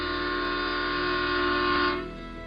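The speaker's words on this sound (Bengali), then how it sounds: "হঠাৎ দূর থেকে ভেসে আসে একটি ট্রেনের হুইসেল।" A Trans-Siberian Railway train whistle sounds as a sustained, steady horn tone that holds for about two seconds and then cuts off, leaving a low hum underneath.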